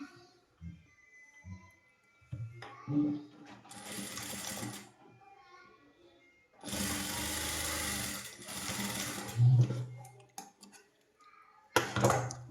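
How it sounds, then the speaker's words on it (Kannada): A sewing machine stitches a blouse for a three-year-old child in short bursts of rapid mechanical whirring separated by pauses, with a person talking in between the runs. "ಈ ಕಡೆ ಸ್ಟಿಚ್ ಹಾಕ್ಕೊಳ್ಳಿ"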